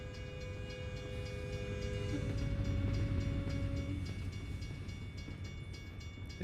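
A passenger train passes in the American Truck Simulator video game, with a rising and fading rumble of rolling cars and a sustained horn-like tone partway through, heard at moderate distance.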